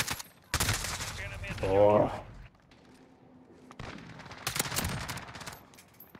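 Video game gunfire rings out in two loud bursts of rapid shots, separated by a quieter gap, with a player's brief exclamation in between.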